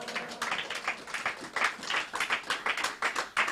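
A church congregation claps along in a steady rhythmic beat, many hands striking together at a moderate pace, fairly close and continuous with no speech over it.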